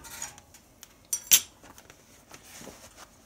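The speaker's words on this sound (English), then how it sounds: "we'll stir up these coals and load her up" Coals are stirred inside a warm, burning Regency i1500 wood stove, making a few sharp metallic scrapes and clinks, one louder knock near the middle, between quiet stretches.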